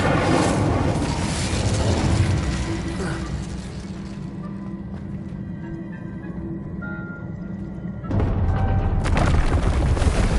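A fire spell cast in Hogwarts Legacy: a loud, sustained whooshing roar with booming low rumble that eases partway through, then swells again near the end, with no talk over it.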